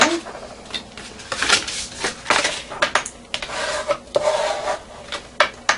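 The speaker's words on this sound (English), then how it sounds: "fold along all these score lines. We want a nice crisp fold" Scored paper for a gift box being creased and folded along its score lines, giving a run of close crisp rubbing and crackling strokes with small taps, fairly loud and without talk.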